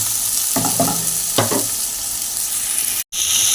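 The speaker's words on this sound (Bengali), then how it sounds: "এবার আমি আদা কুচিগুলো দিয়ে দিলাম। দিয়ে ভালো করে একটু নাড়িয়ে চাড়িয়ে নিচ্ছি।" Chopped ginger fries in a pan, giving a constant close sizzle with a few short scraping stirs of a spoon, then a sudden brief cut to silence before the sizzle returns.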